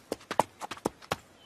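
Horse hooves clip-clop as the animal is brought back to a cart on a road, a handful of sharp, evenly spaced knocks close by, alone with no talk.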